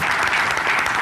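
Dense, steady applause from an assembly adopting a budget programme by acclamation, loud and continuous throughout without pause.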